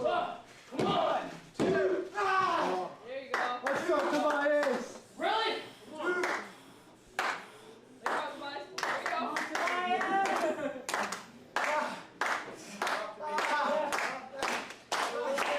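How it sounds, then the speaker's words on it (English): Wrestling fans clap in steady rhythmic bursts for a wrestler during a live show, the crowd claps and thuds running underneath loud, near-continuous commentary from an announcer. "You hear the claps from the fans trying to get behind him."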